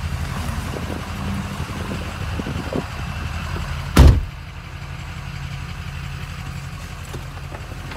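A 2005 Ford F-250 Super Duty pickup idling with a steady low engine rumble, broken midway by a single sharp loud knock or thump before the idle settles back, no talking.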